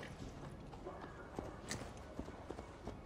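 Horse hooves clip-clop steadily at a trot in the video game Assassin's Creed Valhalla, over a constant noisy background, getting a little more distinct as they come nearer.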